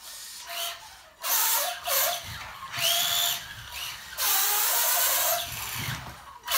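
A Tamiya Dynastorm RC buggy with a cheap brushed motor and a slipping ball differential runs on a floor, giving repeated bursts of high, whirring motor whine that rise and cut off, heard close with no talking.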